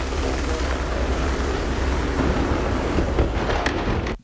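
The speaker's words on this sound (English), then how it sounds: "got to get the helicopter above the building" A helicopter hovers above a building slated for demolition, a loud continuous rotor and engine roar that holds steady for several seconds before cutting off abruptly, with no speech over it.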